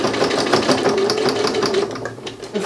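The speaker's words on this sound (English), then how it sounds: "We're going to sew down, across and back up." A sewing machine stitches fabric for a syringe driver bag strap, running in a loud, close, continuous rapid whir with a fast rhythmic needle pulse and no speech.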